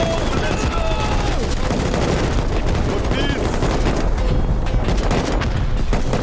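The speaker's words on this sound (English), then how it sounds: "Chaos pursued as rockets were fired off" Rockets and gunfire in a large multiplayer battle in the game Rust, dense continuous automatic fire and blasts with shouting voices mixed in throughout.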